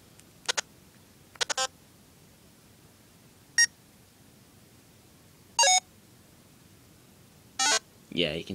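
Program beeps from Petit Computer subroutines sound as short electronic tones, about six of them, widely spaced and clear against a quiet hum, the last one broader and buzzier.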